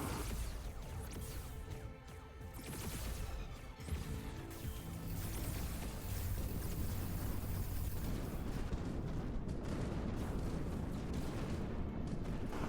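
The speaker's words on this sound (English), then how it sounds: "Our fleet starts firing back." Space fleet weapons firing during a battle in the strategy video game Terra Invicta, a dense, loud, continuous barrage of booming impacts and crashing blasts with no pauses.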